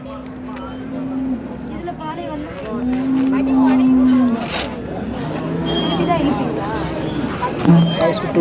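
Cattle, including HF and North Indian breeds, moo repeatedly at a busy livestock market, with long, loud, drawn-out calls rising over crowd chatter and people talking nearby.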